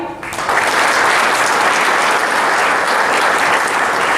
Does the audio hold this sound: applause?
yes